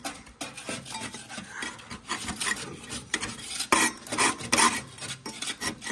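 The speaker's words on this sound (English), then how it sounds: "we scraped some of this old grass off the deck to keep it looking nice" Old grass gets scraped off the deck of a John Deere 2038R mower, making a series of close, uneven rasping and scraping strokes with short pauses between bursts.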